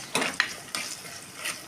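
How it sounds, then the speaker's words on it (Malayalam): Ginger, garlic and crushed shallots are stirred in a pan for a fish-in-chilli curry. A few quick spoon scrapes and light clinks sound over a faint frying sizzle. "അരിഞ്ഞ് വെച്ചേക്കുന്ന ഇഞ്ചി, വെളുത്തുള്ളി, നമ്മുടെ ചെറിയ ഉള്ളി ചതച്ചത് ഇത്രയും കൂടെ ഇട്ട് ഈ പച്ചമണം മാറുന്നത് വരെ ഒന്നിളക്കി കൊടുക്കാം"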